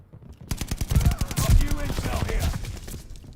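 Pistol shots in Call of Duty: Vanguard: a rapid run of sharp, close gunshot cracks with heavy low-end punch, stacked with other gunfire and game noise, while a voice talks over them.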